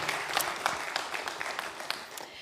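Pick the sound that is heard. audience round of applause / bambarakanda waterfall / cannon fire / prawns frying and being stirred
audience round of applause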